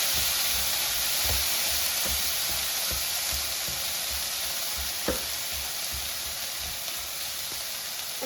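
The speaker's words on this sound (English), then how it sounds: "I'm going to cook it, stirring every minute" Potatoes and tomatoes fry in a pan with a steady, even sizzle, while a utensil scrapes and taps now and then as the mix is stirred.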